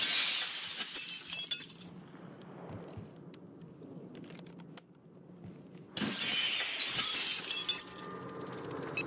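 Glass shatters in a shooter video game in two bright, crashing bursts separated by a quieter stretch of low game ambience.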